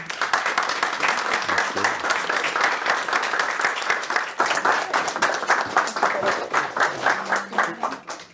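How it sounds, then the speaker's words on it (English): A live audience claps to welcome the guests of an evening conversation with an artist. The applause is dense and sustained for about eight seconds, then thins into scattered claps at the end. "Now please join me in a round of applause for our guests tonight."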